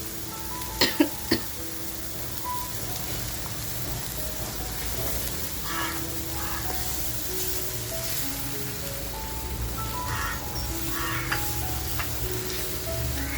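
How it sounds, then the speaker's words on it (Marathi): Ground homemade masala paste fries in a pan for a spicy Malwani karli rassa, giving a steady soft sizzle with a few sharp knocks early on and faint stirring sounds throughout. "लगेचच आपण जो मसाला वाटून घेतलाय तो टाकूया, 1-2 मिनटं साधारण फ्राय करून घेऊया।"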